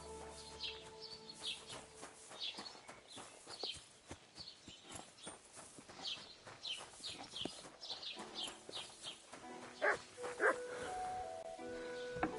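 A dog in the video game Kingdom Come Deliverance, with scattered barks and animal sounds amid hoofbeats, birdsong and busy medieval ambience, heard in short irregular bursts at moderate distance.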